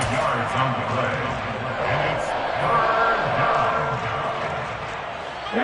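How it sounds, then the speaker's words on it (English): A football stadium crowd roars steadily before a big third down, a dense, loud wash of cheering and shouting that swells slightly midway and holds throughout, with voices mixed into the din. "the crowd getting into it as we come up on a big 3rd down"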